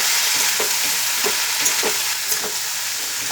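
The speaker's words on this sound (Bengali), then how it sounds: "দিয়ে দিলাম আন্দাজ মতো নুন, নাড়াচাড়া করবো" Salted cauliflower stalks sizzle loudly in a pan as they are stirred, a constant hiss punctuated by regular scraping strokes.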